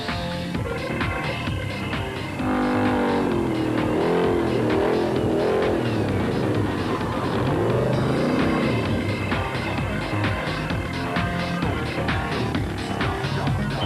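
Dakar 2009 rally truck driving through dusty desert, its engine roaring steadily and revving throughout with shifting pitch, loud and continuous with music layered over it.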